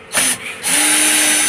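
A power drill drives a screw while a headrest goes into a Toyota Hiace Commuter, giving a short whir, a brief pause, then a steady high whine close by, with no talk.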